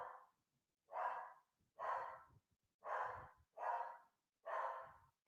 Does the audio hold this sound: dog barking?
yes